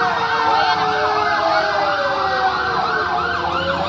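A fire truck siren at a fire in Paltok, Quezon City, wails loudly and close, its pitch sweeping up and down in a continuous repeating cycle over traffic noise.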